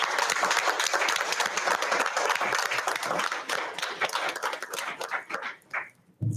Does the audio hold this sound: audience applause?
yes